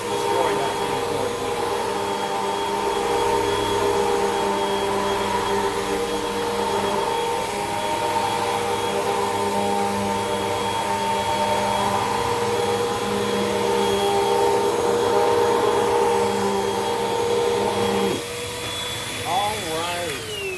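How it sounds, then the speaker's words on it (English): A Hoover vacuum cleaner drones loudly and steadily while cleaning a resort room, its motor note shifting slightly before dropping near the end. "Can't believe I've actually been vacuuming that long."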